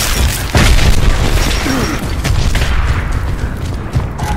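In a Gears of War multiplayer match, a grenade lands and bursts with a loud, heavy boom, followed by mechanical clatter and further rumbling blasts over several seconds.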